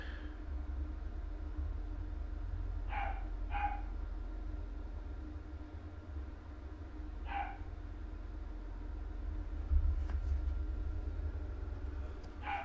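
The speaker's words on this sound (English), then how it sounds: "Every dog in the neighborhood is barking." A few distant neighborhood dog barks in short bursts over a low, steady background rumble, with long quiet gaps between them.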